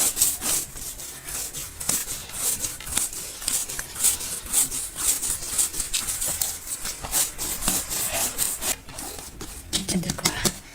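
Homemade bread dough is kneaded by hand, giving close, rhythmic rubbing and slapping strokes that repeat steadily with no talk.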